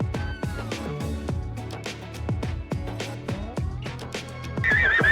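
A horse whinnies close by amid rhythmic hoof clip-clops that repeat steadily throughout, with a brighter shrill neigh rising near the end.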